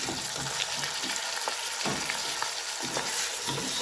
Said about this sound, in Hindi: इसको अच्छी तरह आप भून लें।